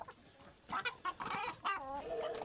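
Several chickens, including young roosters, cluck and squawk in short irregular bursts close by on a farm, with a louder drawn-out call near the end and no talk.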